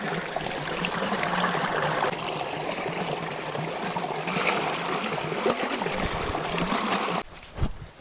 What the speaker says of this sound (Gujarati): મામા એને ચા પાણી પી લીધા છે તો હવે આપણે વાસણ ધોઈ નાખીએ